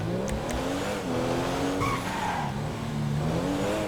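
An add-on Rolls Royce car driving in GTA, a steady engine drone rising and falling in pitch as it accelerates, with a brief tire squeal, close and moderately loud.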